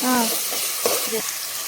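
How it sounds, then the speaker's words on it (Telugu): Ginger garlic paste being stirred into vegetables frying in oil, a brief sizzle with a couple of scraping spoon strokes, close and moderately loud, with a faint voice at the start. "అల్లం వెల్లుల్లి పేస్ట్ వేసుకొని కలుపుకోవాలి"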